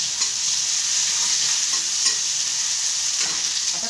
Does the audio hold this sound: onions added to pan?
yes